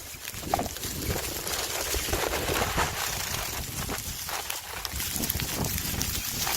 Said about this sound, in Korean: 바람도 굉장히 많이 불고